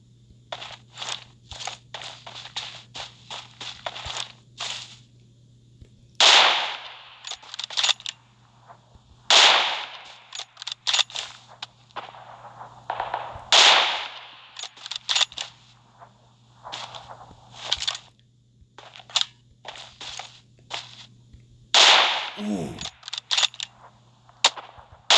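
Gunfire in a PUBG Mobile sniper fight: sharp, loud rifle shots arrive at irregular intervals amid rapid clicking and rattling bursts, with a low steady hum in the background.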